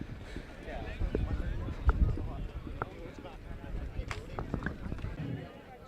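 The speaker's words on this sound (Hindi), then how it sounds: "और ये देखिए विनर घोड़ा मलंग और गौस खान सवारी कर रहे हैं अपने घोड़े की।" A winning racehorse being ridden at a horse race event, with hooves clip-clopping in a steady galloping rhythm at moderate distance, mixed with crowd noise and voices talking over it.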